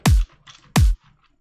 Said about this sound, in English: and it adds to the layer with the main kick.